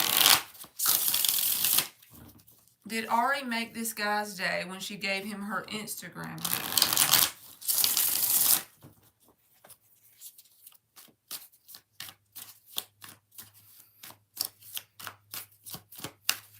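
Tarot cards shuffled by hand during a live reading, heard as a run of quick, crisp riffling clicks after a stretch of nearby talking.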